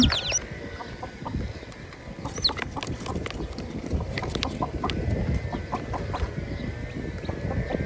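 Chickens cluck and newly hatched chicks peep nearby in a busy, irregular chorus of short calls, continuing throughout at moderate loudness.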